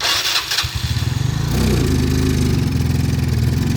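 A motorcycle engine with a fault that makes it bog down when the throttle is twisted sputters, then catches and revs into a steady, loud throbbing drone close by, with no one speaking.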